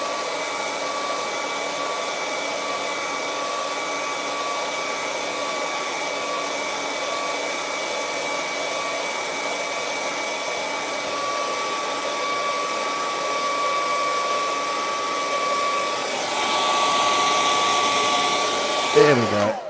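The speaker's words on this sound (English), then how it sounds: "I'm just using hot air to dry it." A hot air dryer blows steadily on a painted rocky cliff water scene, a continuous whirring roar with a faint whine that holds for the whole stretch, close and even, growing slightly rougher near the end before cutting off.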